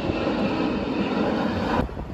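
Airplane flying overhead near the airport by the Mall of America, a broad steady engine roar holding level for about two seconds before easing off, without talk.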